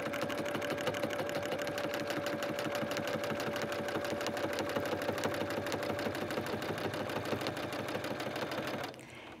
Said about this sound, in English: I'm just gonna sew on all of these lines.